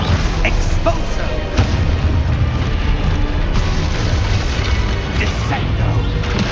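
Expulso explosion spell cast in the video game Hogwarts Legacy, deep booming blasts layered under continuous loud combat noise and a voice calling out spells.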